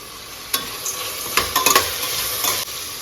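Vegetables sizzling and sautéing in a pan with turmeric and salt, with a steady hiss broken by a few scraping stirs and clinks, close up and with no talking.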